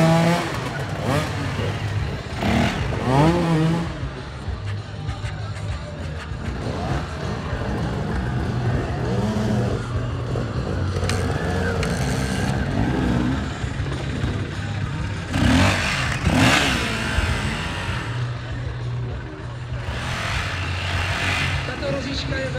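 Racing vehicle engines during a race heat, a continuous roar with revving swells and passing surges at mid distance, heard under steady commentary from a speaker.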